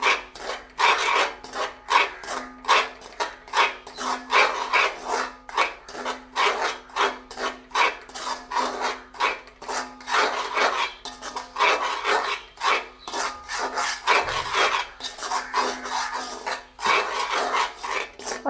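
Semolina roasting in butter in a pan for rava laddu is stirred continuously, producing loud, close, rhythmic scraping and rasping strokes that repeat evenly throughout.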